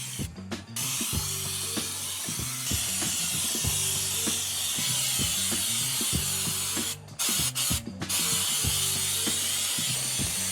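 A Shake & Shoot texture sprayer applies a coating in a steady airy spray, with repeated rattling clicks from the mechanism and a couple of short sharp bursts near the end.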